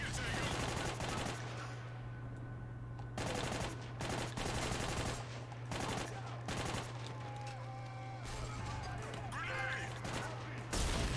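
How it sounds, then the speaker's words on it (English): Mounted machine gun in Army of Two: The 40th Day hammering out several long, loud automatic bursts separated by short pauses, over a constant low game hum, with voices talking between shots. "They've got a mounted gun!"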